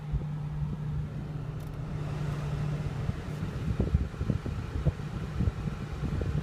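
Cabin blower of a parked car fitted with a K&N cabin air filter, running on a hot 88-degree day in the sun: a steady, close airy whoosh with a low constant hum and a few soft clicks and bumps.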